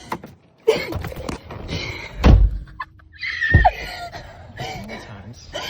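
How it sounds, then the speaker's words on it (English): A car door thuds shut twice with heavy low slams, close by, amid lively voices, laughter and a shriek. "Let me get the door for you."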